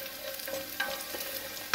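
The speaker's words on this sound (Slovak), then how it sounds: "Takže cibulku si speníme pekne do sklovita a v takom strednom hrnci." Chopped onion sautés in a medium pot until translucent for a bryndza soup, a steady close sizzle with occasional light stirring scrapes and clinks, no voices.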